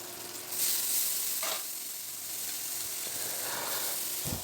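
Onions and ginger-garlic paste with a spice paste sizzle and fry steadily in a pan, a broad hiss with occasional scraping stirs, fairly close and continuous with no voices.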